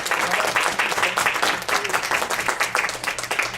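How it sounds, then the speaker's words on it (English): An audience at a regional business meeting bursts into dense, loud applause that carries on steadily throughout the clip. "Let's give him a round of applause."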